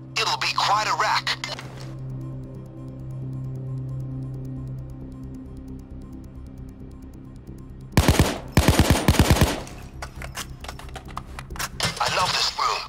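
Weapons fire in a shooting range in the video game PAYDAY 2: a quick opening burst, then a rapid loud automatic volley after a long quiet stretch with a humming background, under a speaking voice.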